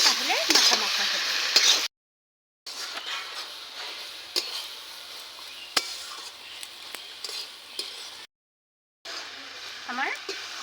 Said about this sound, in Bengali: এবারে আমি নেড়ে চেড়ে আর 5 মিনিটের জন্য ঢাকা দিয়ে দেব।